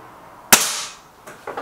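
A .22 air rifle firing JSB Hades pellets, one sharp loud crack followed by a short decaying ring, then a fainter distant impact tick on a target moments later.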